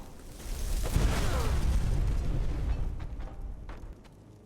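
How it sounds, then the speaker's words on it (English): A deep, rumbling explosion in Skyrim Special Edition bursts out and rolls on for a few seconds before fading, followed by a few faint thuds. "didn't hear the explosion."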